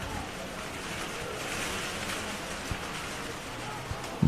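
Heavy wind-driven rain with hail sweeping across an outdoor pitch during a minor Gaelic football final, a steady broadband roar throughout with a couple of brief sharp hits near the end.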